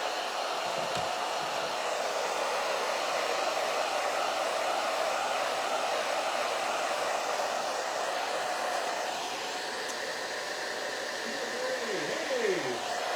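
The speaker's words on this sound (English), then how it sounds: "Let's dry this Mod Podge up." Hair dryer blowing on Mod Podge glue for farmhouse home decor crafting, a loud, steady whooshing drone held close and continuous throughout, with no pauses and only faint background sound.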